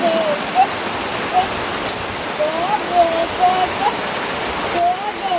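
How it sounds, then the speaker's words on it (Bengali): Heavy rain falls steadily in a home kitchen setting as a dense, continuous wash of hiss, close and loud, with faint repeating chirp-like tones above it. "কাল থেকে এত বৃষ্টি হচ্ছে"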